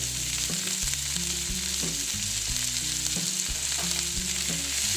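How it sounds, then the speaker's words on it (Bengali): Green beans and capsicum with spring onion fry in a hot pan, giving a steady, close sizzle broken by regular stirring scrapes and clatters, with no talking. "আমি এটা একটু ভেজে নেব দেখো বন্ধুরা এটা এইরকম ভেজে নিচ্ছি"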